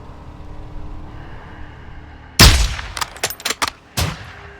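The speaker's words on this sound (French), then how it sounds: "Merde, il a entendu le coup de feu." A sniper rifle shot in Call of Duty: Modern Warfare 2, one loud sharp crack with a fading tail, followed by several quicker shots and a final report over low ambient background.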